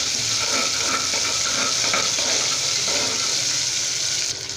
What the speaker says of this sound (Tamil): இப்போ இது எல்லாமே சேர்த்துட்டு நல்லா வந்து வதக்கி விட்டுக்கலாங்க